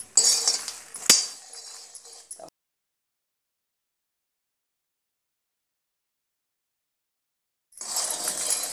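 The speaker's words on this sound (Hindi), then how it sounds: "तो भूनते वक्त लाते रहना है ताकि कोई दाना जले ना।" Salted lotus seeds (makhana) stirred while roasting in a pan, light clinks and scrapes for a couple of seconds, then a long silence before the rustling stirring returns near the end.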